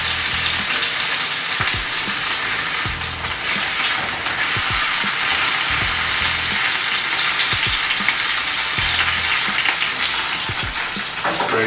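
A tuna steak sears in a very hot pan, giving a loud, continuous, crackling sizzle that holds steady from start to finish, with no voices.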